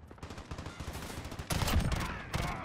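Rapid loud gunfire from the Call of Duty Modern Warfare beta, a dense burst of shots that grows heavier and more forceful partway through, with no talking.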